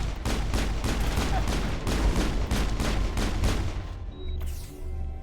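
Sustained rapid gunfire from a firefight in the video game Mass Effect, loud and dense for about four seconds before breaking off into quieter background rumble and a faint tone.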